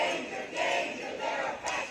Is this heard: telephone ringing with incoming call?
no